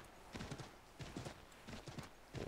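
Horse trotting in Assassin's Creed 3, a steady run of hoof clip-clops in repeating bursts across a couple of seconds, fairly close and unaccompanied by talk.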